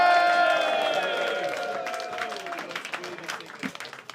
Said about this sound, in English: Clapping, whooping, cheering.